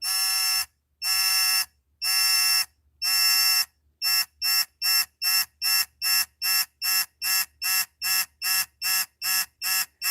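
Loud electronic beeping from a digital torque wrench tightening a cylinder head on a GM 4.3L V6, first in a few long tones, then speeding up into rapid, evenly spaced short beeps, with no voices.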